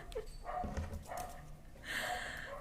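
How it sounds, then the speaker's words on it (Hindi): A few faint dog barks and yips sound from somewhere nearby, quiet and intermittent. "आप लोगों को अगर पीछे से डॉगी की साउंड आ रही है ना"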